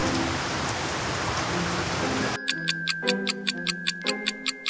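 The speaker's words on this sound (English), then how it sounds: "Suddenly rain started to pour down on Marshall." Steady hiss of heavy rain pouring down in a cartoon for a couple of seconds, then it cuts to a rhythmic ticking clock.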